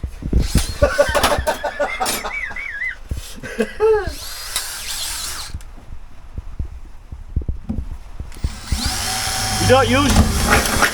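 A mini drill whirs in repeated bursts, rising and falling in pitch as it bites, close and loud. Wind buffets the microphone, and people talk between and over the runs during van conversion work.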